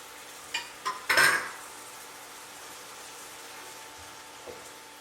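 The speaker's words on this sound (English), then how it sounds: "we're going to deglaze the pan with white wine and allow it to reduce until it's almost gone" White wine splashes into a hot pan for butternut squash risotto with bone-in pork loin, giving one short hissing sizzle burst after a couple of light clinks, then fading to a quiet background with a faint tap.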